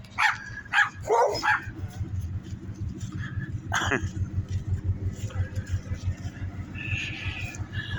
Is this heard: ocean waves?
no